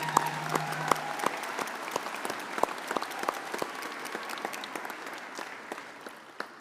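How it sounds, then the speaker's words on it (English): Audience applause at a university convocation ceremony in Saskatoon, a dense wash of many hands clapping steadily with sharp individual claps standing out, sustained for several seconds and gradually thinning toward the end. "So let's have a big round of applause for these people up here,"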